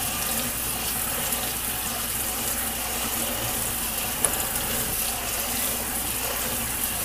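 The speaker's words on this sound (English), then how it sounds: "Now let's rinse with some cold water." A kitchen faucet runs cold water in a steady, full stream into a sink, rinsing diced pork, a continuous splashing wash of water with one brief clink partway through.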